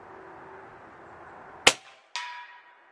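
A Snowpeak M60B .357 (9mm) air rifle fires once outdoors at 65 yards with a sharp, loud crack, followed half a second later by a ringing impact clang that decays, over faint background hiss.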